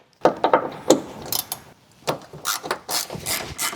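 Ratchet working a bolt loose on a 2024 Ford Ranger Raptor, with bursts of rapid close clicking separated by short pauses, loud and without speech.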